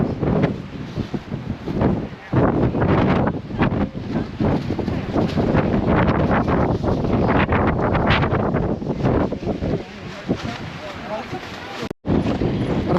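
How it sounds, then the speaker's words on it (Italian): Strong gusts sweep across the Irish Atlantic coast, roaring and buffeting the microphone almost nonstop for the whole stretch, with voices faintly underneath and a brief sharp dropout near the end. "C'è un vento folle ragazzi, un vento veramente importante."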